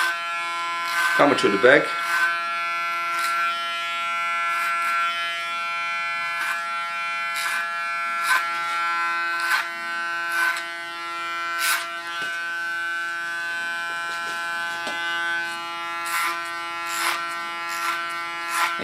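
Electric hair clippers cutting short hair at the neckline, a steady close buzz with rhythmic pulses as strokes pass, while a person talks briefly at the start.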